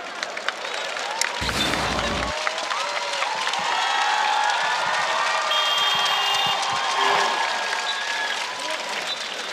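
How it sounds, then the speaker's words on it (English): Basketball fans cheering and clapping in an arena during a professional playoff game, a sustained crowd roar with scattered claps and shouts, overlaid by a brief loud burst near the start. "The Dreamers fans in the arena being heard."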